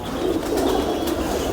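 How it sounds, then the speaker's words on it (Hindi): Gerebaz pigeon, shown by its keeper, cooing in a steady low murmur close by, with no talk over it. "ये गेरेबाज कबूतर है।"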